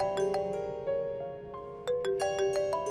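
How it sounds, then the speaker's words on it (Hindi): A phone ringtone plays a repeating melodic pattern of bright electronic tones for about three seconds in an indoor scene, fairly close and steady, with no talk over it. "तुम्हारा फोन आ रहा है"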